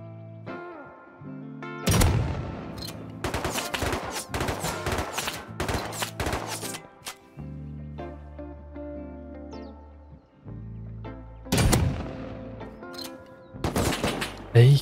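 AK rifle gunfire in the survival video game Rust, arriving as several loud, rapid volleys with quieter gaps between, over a low humming game background.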